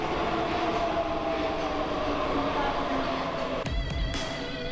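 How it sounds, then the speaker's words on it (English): A Soviet-built, since-modernised metro train on Budapest's M3 line gives a steady, loud underground rumble with a tonal whine, then a couple of sharp rattling clanks near the end. "These metro train sets were originally built in Russia in the Soviet Union"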